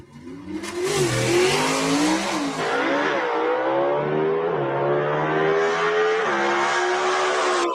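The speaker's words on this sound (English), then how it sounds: "Jerry Dean didn't even bring the RPMs up to a high rev before he dropped the clutch right there" Drag race car launching off the line at a raceway with the clutch dropped at low revs: a short idle, then a loud engine surge that climbs through gears in a long, steady rising drone.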